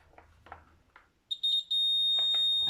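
Electric buzzer in a simple circuit completed through a 2p coin: a brief faint tapping, then a loud, steady high-pitched buzz that stutters once before holding continuously.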